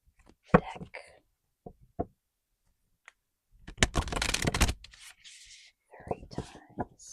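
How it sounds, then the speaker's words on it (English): A deck of cards is shuffled up close in a quiet ASMR setting, a dense riffling burst preceded by soft taps and clicks, with whispering before and after. "we're going to shuffle the deck"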